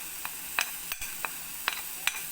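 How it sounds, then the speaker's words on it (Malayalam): Turmeric, masala and pepper powder being sautéed in a pan, a steady soft sizzle broken by several quick scraping stirs at irregular intervals, close and moderately quiet. "ഇതിട്ടൊന്ന് നമുക്കൊന്ന് വഴറ്റാം"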